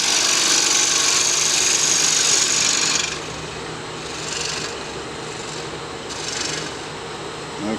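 A wood lathe facing off a silver maple blank: a steady, continuous rasping scrape of the tool cutting spinning wood, loud and bright at first, then easing to a softer, lighter shaving hiss.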